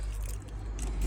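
Keys jangle as the ignition is switched on in a Toyota Granvia camper conversion with an automatic gearbox, a brief close metallic rattle.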